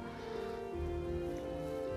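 Steady rain falls in Morroblivion, a soft, continuous patter laid under a faint background tone, quiet and even throughout.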